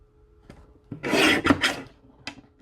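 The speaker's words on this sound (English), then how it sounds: "for the last sheet, we'll place it in the trimmer at, let's see, 6 inches" A paper trimmer blade slides across a sheet of cardstock, making a rasping swish of roughly a second with a few small clicks before and after, close and quiet with no voices.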